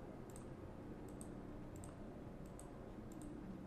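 Computer mouse clicks while right-clicking and mapping parameters to macro knobs in Ableton with Massive, small crisp double clicks repeating at a steady pace, close but quiet over a faint constant room hiss.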